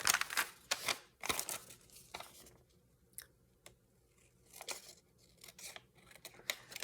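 Scissors snip through thin, fussy vellum paper while an envelope is trimmed, a handful of crisp close cuts and crinkles in quick bursts, then quieter rustling with a few sharp snips near the end.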